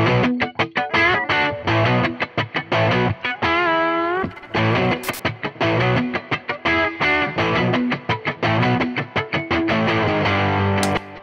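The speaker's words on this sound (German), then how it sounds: "Ich mache den Hall gerade noch mal kurz länger, damit ich dir zeigen kann, wie das Pre-Delay sich auswirkt, wenn ich es zu groß einstelle oder zu lang." Reverb with an increasing pre-delay on a loud, distorted music signal: dense bursts of processed sound with a lingering, smeared tail, the reflections arriving later as the effect is adjusted.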